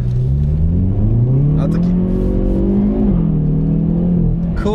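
A Hyundai i30N with a DCT gearbox accelerates on the road, its engine note climbing in pitch as it pulls hard. The strong, steady drone stays loud throughout, with someone talking over it.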